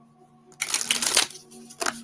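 A brief riffle of playing cards being shuffled up close, a crisp burst followed by a short second flutter, over a faint steady hum.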